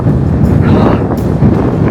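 Strong, gusty wind buffets the microphone on a mountain ridge, roaring loudly and continuously with surging gusts and no voices.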